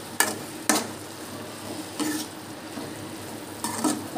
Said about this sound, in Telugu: ఇది బాగా కలుపుకోవాలి